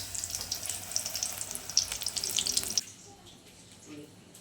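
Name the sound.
frying coriander leaf fritters (chop) in oil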